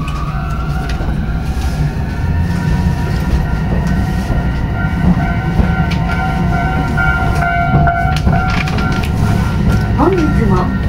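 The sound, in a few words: Tokyu Setagaya Line tram running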